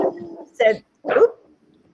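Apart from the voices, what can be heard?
dog barking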